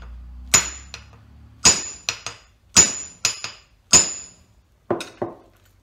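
Hammer strikes on a 1943 Farmall belt pulley during teardown, several sharp metallic taps in short groups with ringing decay, close and loud with quiet gaps between.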